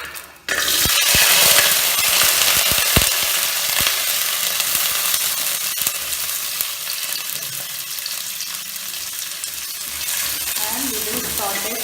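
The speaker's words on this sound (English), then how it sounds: "we will add the shallot, garlic, ginger and green chilli." Shallot, garlic, ginger and green chilli hit hot oil for a coconut fish curry, bursting into a loud, close, sustained sizzle with sharp clinks of utensils against the pan early on, then settling into a steady fry.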